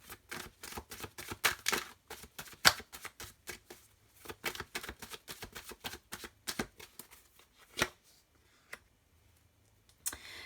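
Tarot cards are shuffled in quick bursts of crisp riffling clicks, dense at first and then thinning to scattered snaps and taps, close and moderately loud with no talking.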